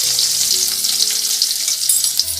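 Garlic and curry leaves sizzle and crackle in hot oil in a pan, a dense, bright frying hiss with small pops, close and steady throughout.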